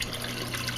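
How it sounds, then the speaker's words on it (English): Water runs steadily through a basement hydroponics manifold and spills down a small return tube, a constant close trickling and gushing with no voices. "the manifold where the water runs through and just dumps back down this little tube and back in"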